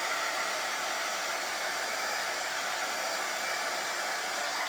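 Hair dryer running steadily at close range while drying Mod Podge on a decoupage camouflage piece, a continuous even whoosh with no pauses and no talking.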